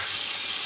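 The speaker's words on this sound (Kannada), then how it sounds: "ಇತ್ತೆ ಮೀನು ಫ್ರೈಕ್ ಪಾಡೊಂದಿಲ್ಲೇರಿ" Bangude fish fries in a pan for a green masala dish, giving a brief, dense, close sizzle that hisses evenly throughout with no voices.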